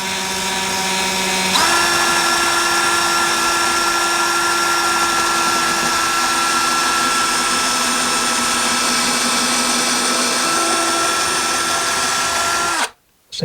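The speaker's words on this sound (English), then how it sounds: "Let's grab our drill and we'll drill those out." A power drill boring pilot holes into a wall for a floating shelf bracket, a loud steady high whine that holds for about eleven seconds, briefly rising in pitch at the start and cutting off abruptly at the end.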